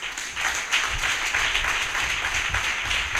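A church audience claps for people who have stood up, steady dense applause filling the hall from start to finish with no voices over it.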